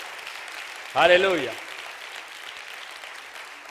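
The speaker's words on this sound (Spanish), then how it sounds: "¿Le puede regalar un aplauso al Rey de Reyes?" A congregation claps for the King of Kings during a church service, low steady applause running under a single loud spoken exclamation.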